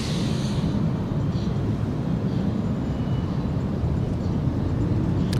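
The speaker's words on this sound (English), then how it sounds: "And there goes the Delta, heading back to JFK." A Delta airliner departing Los Angeles International Airport for JFK, a steady, loud, broadband jet roar that stays constant for several seconds with no speech over it.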